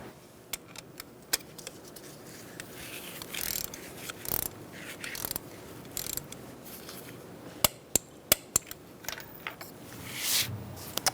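Torque wrench tightening a bolt on a 2012-2017 Hyundai Accent 1.6L four-cylinder engine during an ignition coil boot replacement: soft ratcheting and scattered metallic clicks, ending in a cluster of sharp, close clicks, with no talking.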